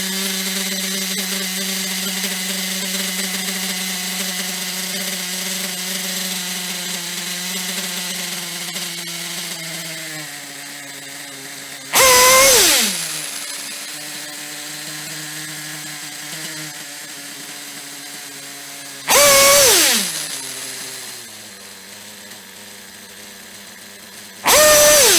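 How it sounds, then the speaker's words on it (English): A nitro model engine idles steadily with a high buzzing drone, then is sharply revved in three brief loud bursts, each falling back to a lower idle. "Now I'm rinsing it up so you can hear the difference. Might got the idle too low."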